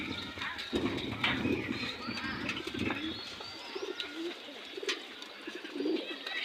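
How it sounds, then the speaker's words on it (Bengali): Pigeons coo softly and repeatedly at close range, with scattered bird calls and faint hoof-like clops mixed into a busy outdoor background. "এই যে আমাদের কবুতর।"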